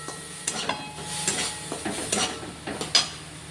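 A chhana sweet mixture with crushed cardamom and sugar is stirred in a pan, giving soft sizzling under a series of distinct close scraping spoon strokes at an irregular pace, no talking.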